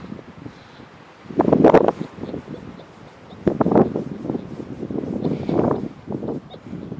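Gusts of wind buffet the microphone in rumbling bursts during an outdoor metal detector air test, with quieter stretches between, and faint birdsong in the background.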